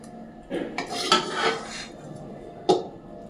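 A metal pot of red amaranth greens curry with vegetables and small fish being lifted off a stove, with several clanks and scrapes of metal on metal, one sharp clink near the end, close and fairly quiet.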